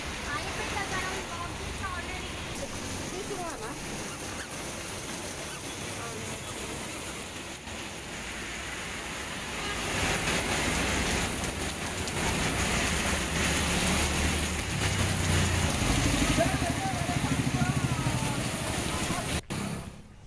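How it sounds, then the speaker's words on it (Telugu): Heavy monsoon downpour across Hyderabad, a steady dense hiss of rain on surfaces throughout, growing louder after the midpoint, with faint traffic or vehicle noise underneath. "నగరంలో పలుచోట్ల కుండపోత వాన పడింది."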